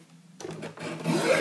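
Scissors snip and rasp through a white strip of craft material, a few short close cutting and rubbing strokes that grow slightly louder, with no talk.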